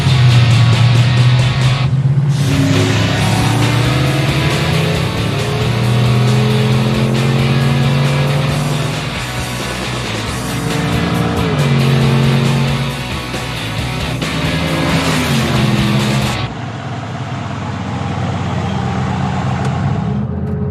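A 1,000 hp drag car rolls in and accelerates hard, its engine roaring loudly and climbing in pitch through several rising sweeps for about fifteen seconds, then cutting abruptly to a lower rumble, close and alone.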